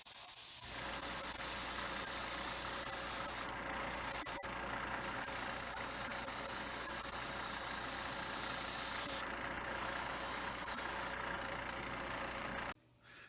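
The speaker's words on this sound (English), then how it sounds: "We'll be airbrushing a gunmetal color for the phasers and a yellow-green for the thrusters" An airbrush hisses steadily, spraying gunmetal and yellow-green paint onto a model starship's phaser strips and thrusters. A continuous quiet spray runs throughout, with a few brief breaks and short bursts of brighter hiss.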